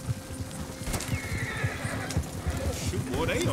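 A Red Dead Redemption 2 horse whinnies loudly over clip-clopping hooves, with a shrill rising neigh near the end and a voice talking faintly in the background.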